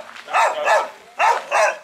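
A dog barks four times close by, in two pairs of sharp barks with short gaps between them, outdoors in Dangriga, Belize.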